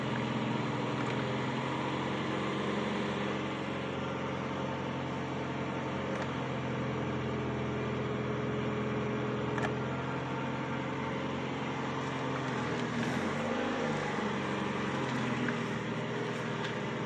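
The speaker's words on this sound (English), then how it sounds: "You hear the alternator drag it down." A 1985 Cadillac Cimarron engine idles after months of sitting, its alternator load dragging the revs down; a steady, even drone with a faint whine runs unbroken throughout, no voices.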